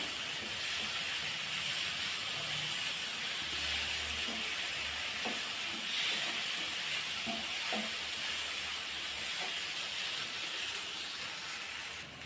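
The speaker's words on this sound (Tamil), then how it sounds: "இந்த மசாலாவோடவே சேர்த்து நல்லா அதை கலந்து விட்றலாம்" Fried brinjal being stirred into onion-tomato masala in a pan for a Tamil-style curry, giving a steady broadband sizzle with occasional soft scrapes and taps of the spoon, no voices.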